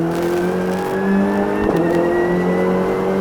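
A Renault Clio Cup race car drives on track, its engine droning loud and steady at close range, with a brief tonal shift partway through.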